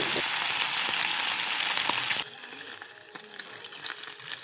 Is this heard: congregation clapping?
no